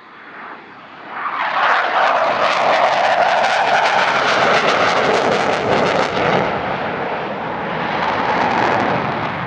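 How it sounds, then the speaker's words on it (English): A Dassault Rafale fighter jet flies a fast solo display at the Air Legend airshow at Paris-Villaroche, its engine roar rising loud and close, then holding a sustained, crackling thunder as it passes, with no talk over it. "This is one of the very finest fast jet solos in the world, and it will give quite an insight into the Rafale's epic manoeuvrability."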